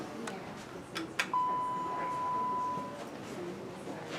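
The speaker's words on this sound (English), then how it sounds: "Ring the bell." A bell on a 1992 Dover Impulse hydraulic elevator at a college library rings once as a single sustained tone lasting over a second, followed by a quiet room with faint background noise.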